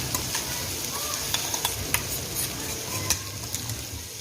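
Ground masala paste for masala rice sizzling in a pan, a dense steady hiss broken by a few sharp clinks and scrapes of stirring, close up.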